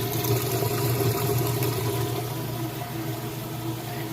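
Steady rushing water with a low mechanical hum, continuous and fairly loud throughout, as a Kenmore washing machine drains after its rinse cycle.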